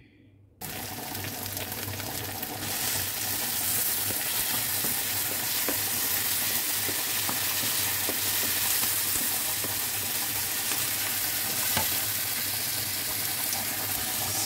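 Udon with garlic, onion and tomato cooking in a pan, a loud continuous sizzle that starts abruptly and holds steady, with occasional light clicks of stirring.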